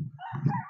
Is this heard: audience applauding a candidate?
no